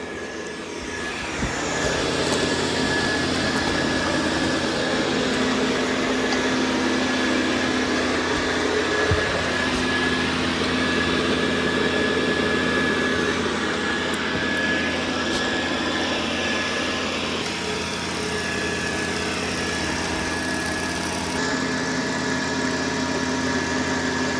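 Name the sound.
Dreame L10S Ultra Gen 2 robot vacuum cleaning a corner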